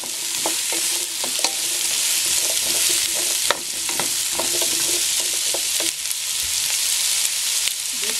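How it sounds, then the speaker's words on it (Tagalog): Carrots and mushrooms sautéing in a pan for chopsuey, a loud continuous sizzle with frequent stirring scrapes and clicks of a utensil throughout, no talking. "lutuin lang natin itong carrot at saka itong mushrooms"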